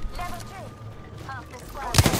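A sharp, loud gunshot from a Wingman pistol in the Apex Legends shooter bursts out near the end, following a stretch of game sounds and faint chatter.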